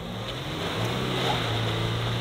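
A Ford Ranger pickup in two-high holds a steady, loud engine drone at the line, a low rumble building slightly as it stalls up for a hard launch.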